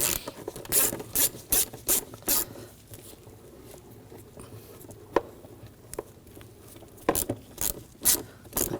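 A 6mm socket on a ratchet clicks in quick bursts while loosening a worm clamp on an air duct of a 2007-2013 BMW 328i 3.0L inline-six, with a pause of small scrapes before more ratcheting.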